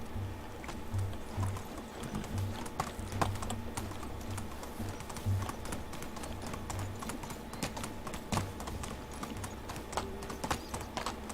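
Horse hooves clip-clop steadily in Medieval Dynasty as a rider travels toward Jezreka, a continuous rhythmic trot under faint game ambience with no talk.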